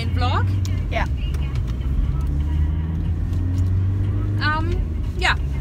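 A car driving along with a steady engine and road rumble throughout, and people talking over it inside the vehicle.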